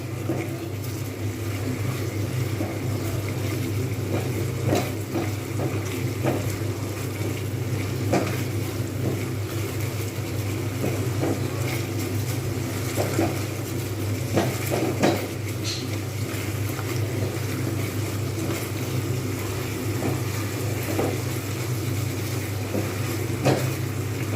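Katla fish curry masala being stir-fried in oil in a pan: a steady, dense hiss runs throughout, with scattered clinks and scrapes of a spatula against the pan and no talking.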